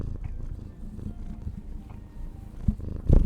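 Velcro, a cuddly cat, purrs right against the microphone in a continuous low rumble, while his paw bumps and rubbing make thumps and scuffs that grow louder toward the end.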